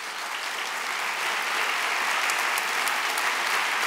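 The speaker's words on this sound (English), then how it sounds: "Let's give a round of applause for the lightning round." A university hall audience at a mayoral debate breaks into dense, steady applause, loud and continuous throughout, with a little crowd murmur beneath.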